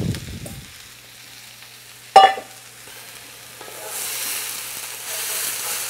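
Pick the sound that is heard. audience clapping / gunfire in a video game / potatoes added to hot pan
potatoes added to hot pan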